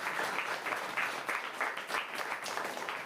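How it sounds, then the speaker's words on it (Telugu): An audience at a spiritual discourse claps together in a steady run of quick, close hand claps. The applause is fairly soft and continuous, with slight swells and no speech over it. "మనం గట్టిగా చప్పట్లు కొడుతున్నాం"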